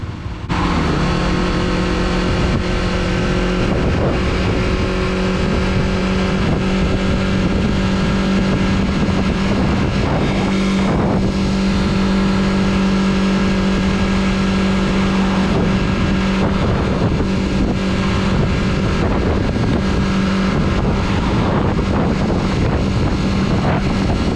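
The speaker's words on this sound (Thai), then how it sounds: "แต่ผมเชื่อเลยว่ารถแม่งต้องเค้นรอบอย่างแน่นอนนะครับ" A car's engine drones loud and steady while straining up a mountain road to a Khao Yai National Park viewpoint, with constant wind buffeting over the strained hum.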